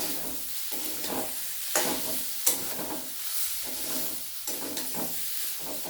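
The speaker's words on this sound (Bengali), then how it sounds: "এটাকে আমি ভালো করে কষিয়ে রান্না করে নেব" A papad omelette curry sizzles steadily in a pan while a spatula scrapes and stirs it in repeated strokes, the frying hiss continuous and close, with occasional sharper clanks against the metal.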